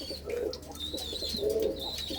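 Pigeons kept in coops on a Punjab breeding farm give soft, low cooing calls, two or three gentle bursts close by, with faint chirps from other birds around them.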